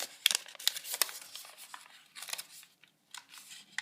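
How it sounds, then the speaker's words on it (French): Sheets of origami paper being opened out and unfolded while making a crane, giving quiet crisp crinkles and rustles in short bursts with brief pauses, close and fairly soft. "on déplie les plis précédents, on ouvre le carré jusqu'aux deux extrémités"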